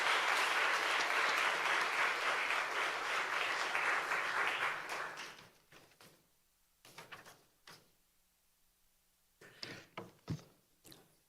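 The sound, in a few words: audience applause for a seminar speaker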